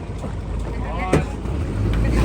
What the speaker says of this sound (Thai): เรือนี้นะคะ เป็นเรือใหม่ของทางแสกเคียนบีดเลยนะ